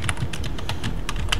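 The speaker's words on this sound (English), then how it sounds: "you can just start typing" Steady typing on a computer keyboard while editing a test file in the mg text editor, a lightweight Emacs-like editor; quick, close, crisp key clicks come in an irregular rhythm, with no voice.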